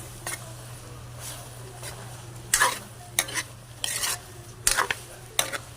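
Vegetables stirred in a pan during home cooking in a rural Cebu kitchen, with scraping utensil strokes in irregular bursts over a steady low hum and faint sizzle, close by, no talking.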